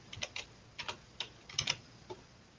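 Computer keyboard typing in quick bursts of close, crisp key clicks with short pauses between them, heard alone while adjusting saber effect settings for a Proffieboard.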